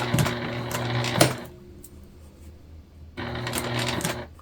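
A sewing machine stitches slowly over zipper teeth with a worn needle, whirring in two short bursts of rapid mechanical ticking separated by a quiet pause, loud and close.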